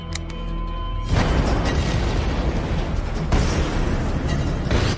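A deep, loud explosion erupts after a second of tonal hum, followed by a long rumbling roar and a second burst of debris noise.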